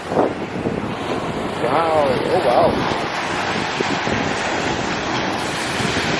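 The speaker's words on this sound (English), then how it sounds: "You hear the sound of those waves though?" Ocean waves wash steadily onto a beach in Mexico under strong wind noise, a continuous broadband roar with brief excited exclamations from a person near the start.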